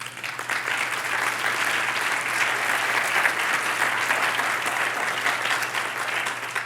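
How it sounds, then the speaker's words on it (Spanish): A church congregation claps steadily during a service, a dense, even wash of applause from a large crowd that holds at a constant level throughout, with a low hum underneath. "Dale un aplauso al Señor."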